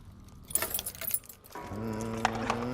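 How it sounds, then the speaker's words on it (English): A ring of many metal keys jangles and clinks in bursts as someone fumbles for the right one in a prison, followed by a steady engine hum in the background. "I should have numbered these keys."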